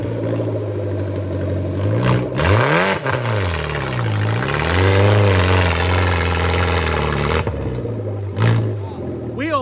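A vehicle engine at a Gambler 500 off-road event drones loudly and close, climbing and falling in pitch through several revs as it moves forward, with people talking nearby.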